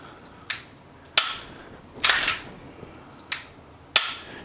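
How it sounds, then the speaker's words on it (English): A Glock 43X pistol being racked and dry-fired gives five sharp, close metallic clacks spaced about a second apart, each snapping on and fading quickly, with no talking. "So we'll just rack it a couple of times, safe direction, pull the trigger"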